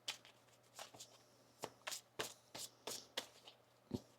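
Crisp riffling bursts of tarot cards being shuffled, about a dozen quick slaps and flutters spaced irregularly, close and fairly quiet.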